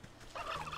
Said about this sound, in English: Run past the evil turkeys.